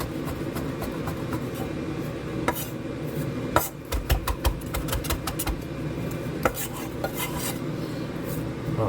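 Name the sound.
knife roughly chopping coriander leaves and stems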